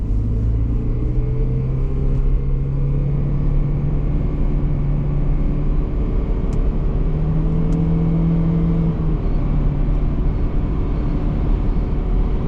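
A high-mileage 2008 Toyota Prius drives steadily and accelerates, its low engine drone and road rumble rising and falling in pitch, continuous and close, with no talking.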